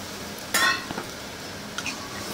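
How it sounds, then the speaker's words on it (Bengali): A pan of fish curry with potatoes and mustard paste gets a brief stir, a couple of short scrapes and a clink over a soft steady simmer, close by, no voices. "আবার একটু নাড়বো।"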